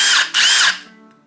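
A Milwaukee M18 Gen 4 2953-20 impact driver in self-tapping screw mode whirs loudly in two close bursts split by a short pause, then winds down into a fading tail.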